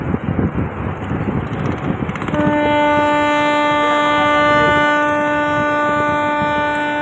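A passenger launch departs the Sadarghat river terminal in Dhaka. Busy, noisy terminal ambience gives way to a long, loud, steady horn blast that holds to the end.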